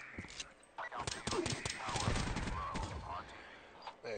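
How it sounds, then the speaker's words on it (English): An automated sentry gun fires in a first-person shooter match, with quick bursts of rapid gunfire rattling at a modest distance among other game noise. "There you go, Sentry Gun. Thank you for killing him."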